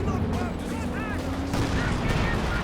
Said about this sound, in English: Walking Stuka barrage.